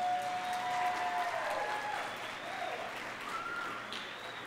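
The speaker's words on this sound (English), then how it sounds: "yes, you can clap for them" Warm, steady applause from a concert audience for orchestra musicians accompanying a university spring choir concert, fairly soft and sustained, with a few faint voices in the hall.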